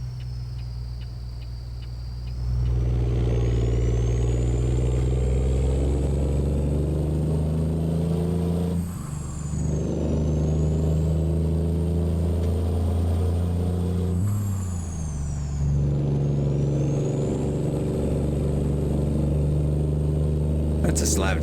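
Caterpillar C12 truck engine in American Truck Simulator, a loud steady diesel drone that rises and falls through repeated revving and gear changes, with a person talking over it.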